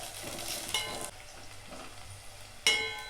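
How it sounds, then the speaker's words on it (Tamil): Green chilies, garlic and curry leaves sauté in a pan for a South Indian kootu, giving a soft, steady sizzle with a few stirring scrapes and a louder burst of frying near the end. "இப்போது பச்சை மிளகா, பூண்டு, கருவேப்பிலையை சேர்த்துக்குவோம். அதையும் நல்லா வதக்கிடலாம்."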